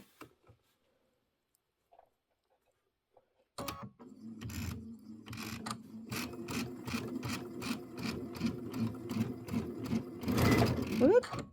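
Jeanne's sewing machine stitches Kimberbell Hello Sunshine traditional pieced quilt block pieces with a quarter-inch foot. Silence comes first, then a close, steady, rapid mechanical whir with a rhythmic ticking pulse that builds slightly louder toward the end.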